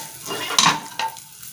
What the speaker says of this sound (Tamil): கடுகும் ஜீரகமும் நல்லா பொரிஞ்சு வந்துருச்சு